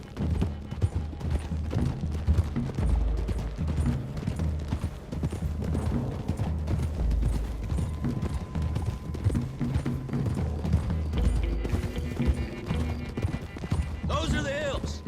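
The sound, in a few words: horses galloping in Red Dead Redemption 2 video game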